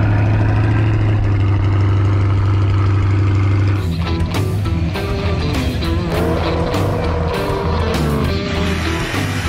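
A Buick GSX muscle car engine at a classic car show at Mount Smart Stadium, heard up close idling with a deep steady burble, then blipping through a series of sharp revs with uneven pulsing.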